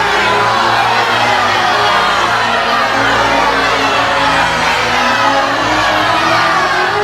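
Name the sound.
crowd shouting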